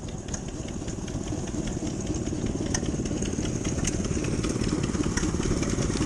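An old engine running steadily at a wet, muddy steam rally, a continuous close chugging rumble with faint knocking and no break in the sound.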